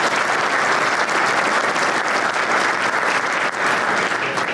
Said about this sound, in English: how about another round of applause for Joe Bevilacqua?